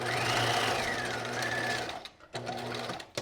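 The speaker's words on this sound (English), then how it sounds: "We're stitching at 5/8 of an inch" A sewing machine stitches a knit pencil skirt at a 5/8-inch seam allowance in a loud, steady whir, then stops briefly and restarts in short bursts.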